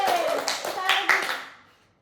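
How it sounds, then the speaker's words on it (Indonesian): A class claps hands during a writing lesson in a classroom, giving a short burst of close claps under children's and teacher's voices before fading out. "Tepuk tangan."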